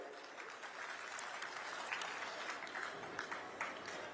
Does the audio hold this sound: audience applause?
yes